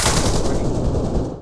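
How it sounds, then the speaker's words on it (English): Loud, close gunfire in the video game DayZ on the Namalsk map, a rapid burst of shots that blend into a dense roar before quickly fading out. "Yo, someone shot at me."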